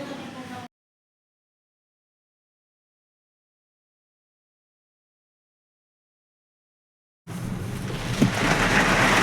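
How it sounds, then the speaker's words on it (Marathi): Heavy rain with thunder falls in Sanpada, Mumbai, a loud wash of downpour heard briefly, then silence, then returning with a deep rumble of thunder under it. "आता खूप जोराचा पाऊस पण येतोय"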